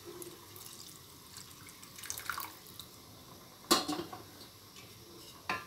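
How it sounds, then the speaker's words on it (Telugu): Tamarind juice is poured over crab pieces simmering in masala for an Andhra-style crab pulusu, giving soft drips and splashes with a couple of sharper pours and utensil clinks against a quiet kitchen background. "ముక్కలు మునిగేలాగా పులుసు వేసుకోవాలండి"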